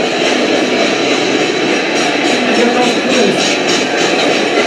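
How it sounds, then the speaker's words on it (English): A freight train rumbles past nearby, its caboose ending the train, with a broad, steady roar and rhythmic clatter of wheels over rail joints, loud and continuous. "And here comes the caboose to end the train."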